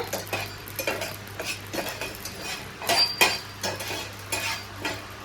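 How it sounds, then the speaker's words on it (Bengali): Whole biryani masala spices dry-roasting in a pan while a spoon stirs them, repeated scraping and light clinking strokes in an uneven rhythm over a faint hiss, close and moderately loud. "এই দেখো বিরিয়ানি মশলাটাকে ভাজা হচ্ছে।"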